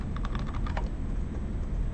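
Computer keyboard typing during a live software demo, a quick cluster of key clicks early on that fades into steady low background noise, with no voices.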